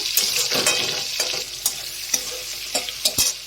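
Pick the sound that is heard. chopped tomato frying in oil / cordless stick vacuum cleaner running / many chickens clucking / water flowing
chopped tomato frying in oil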